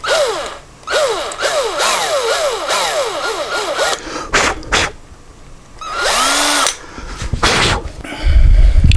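A cordless drill boring a 6 mm hole into an electric guitar body in a workshop, close and loud: repeated rising whirs with ratcheting clutch clicks, short bursts of revving, brief pauses, and a clunk at the end.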